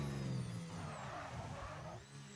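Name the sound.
race car engine in the video game F1 25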